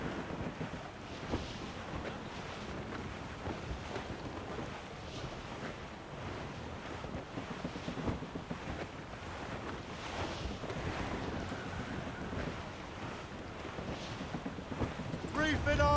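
Wind and surging sea around a sailing ship in Assassin's Creed Rogue, a steady broadband rush of waves and gusts filling the whole stretch, with faint voices now and then underneath.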